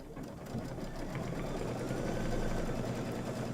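A sewing machine stitches a decorative stitch on a quilted table topper, giving a steady, fairly quiet mechanical whirring hum with fast, even needle pulses throughout.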